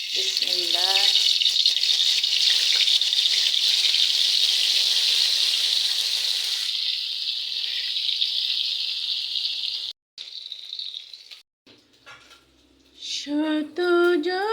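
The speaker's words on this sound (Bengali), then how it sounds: "এই বেলে মাছগুলো অনেকটা নরম মাছ, তাই এটাকে আমি সামান্য একটু ভেজে নেব হালকা করে" Soft bele fish frying lightly in a pan, a steady broadband sizzle that runs loud and continuous for about ten seconds, then thins out and breaks up, with some clatter and tonal sounds near the end.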